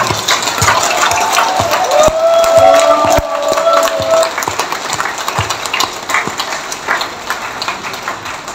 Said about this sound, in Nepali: बेसरी सबैले अलिकति ताली बजाउनु